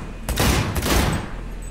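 Gunfire in a video game played on an Xbox QAS-00002 gamepad: two loud, close shots or short bursts in quick succession, each with a ringing tail, over a steady background of game sound.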